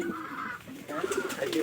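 A pigeon of a good breed coos softly in a few short, throaty bursts, close and alone, with faint room noise behind it.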